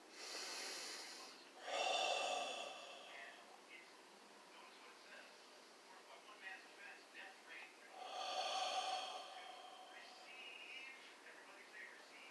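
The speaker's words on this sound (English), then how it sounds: "and breathe in and out." Slow, deliberate breaths drawn in and let out close to the microphone, two long airy swells several seconds apart, with a soft guided-meditation voice speaking in between.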